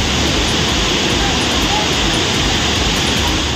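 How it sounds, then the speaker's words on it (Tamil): Water roaring down Silver Falls waterfall in Kodaikanal after heavy rain, a loud, dense, unbroken rushing roar with no pauses. "இதனால் வெள்ளி நீர்வீழ்ச்சியில் தண்ணீர் ஆர்ப்பரித்து கொட்டியது"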